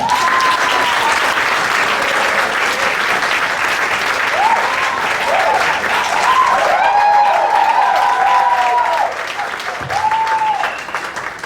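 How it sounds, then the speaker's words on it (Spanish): A church congregation breaks into loud, sustained applause, dense clapping filling the room with scattered cheers and voices over it, tapering slightly near the end. "Un aplauso, vale."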